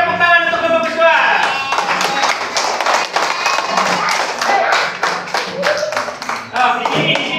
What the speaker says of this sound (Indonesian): Baik, tepuk tangan untuk kelompok visual.